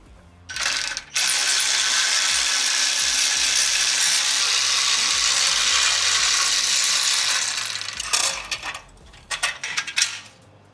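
A ratchet wrench loosens the heat shield clamps on a Harley-Davidson Road Glide exhaust, giving a long, steady, loud clicking whir for several seconds, framed by short bursts of ratcheting before and after.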